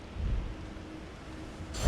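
A storm with thunder in Alfheim in the God of War video game: low rumbling weather with a heavier burst of thunder near the end, and no talking.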